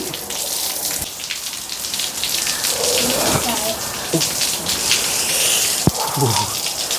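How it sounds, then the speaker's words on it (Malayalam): Heavy rain hisses loudly and continuously, with a few sharp drips and knocks, and indistinct voices rising briefly through the downpour. "ഓ എന്ത് മഴയടി"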